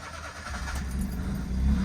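A Honda Life car engine starting, a low rumbling idle that swells and grows steadier and slightly louder, close by with no talking.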